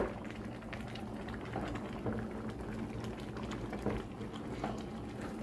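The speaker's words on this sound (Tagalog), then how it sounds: "Pakuluan natin hanggang sa lumambot ang ating kalabasa." Pumpkin and alugbati greens simmer in a pot of water with a soft, continuous bubbling and faint patter, steady and moderately quiet throughout.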